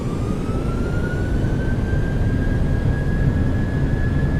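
Jet engines of a PMDG 737-800 in Microsoft Flight Simulator at takeoff power give a loud, steady roar with a thin whine that rises slowly and then holds, with no voices over it.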